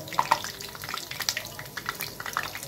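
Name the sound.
frying lentil fritters in oil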